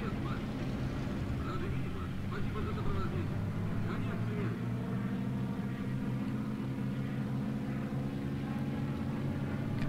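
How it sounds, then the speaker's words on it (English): World War II era propeller plane engine warming up on a runway in IL-2 Sturmovik, a steady droning hum held throughout at moderate level, with a voice talking over it. "Start warming your engine up."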